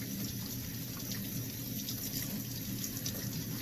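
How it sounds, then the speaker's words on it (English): Tap water runs steadily into a sink while soapy hands are rinsed, a constant close splashing hiss with no pauses. "go ahead, wash off all of our soap on our hands"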